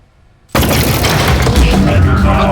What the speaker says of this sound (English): Oh, jeez, it's got a gun! It's an ambush!